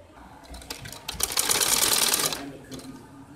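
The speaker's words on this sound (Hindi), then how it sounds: "अब मैं इसके अंदर अंदर सारी सिलाई लगाऊंगी" Sewing machine stitching around the neckline of a kameez, a steady rapid mechanical whir that swells loudly in the middle of the run and then tapers off, with no talking over it.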